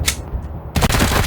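Video game gunfire in a Garden of the Gods shootout: a sharp shot, then a brief lull, then a rapid burst of loud, close shots.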